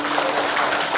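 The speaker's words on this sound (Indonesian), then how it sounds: "kita beri dulu tepuk tangan" Wedding blessing ceremony guests applauding, a brief dense wash of clapping from a gathered crowd, steady and fairly loud.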